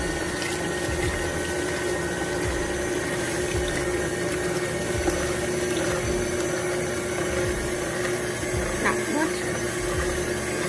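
An electric mixer whips cream with sugar for a mango pie filling, a loud, steady motor whir and churning hum that holds constant throughout at close range.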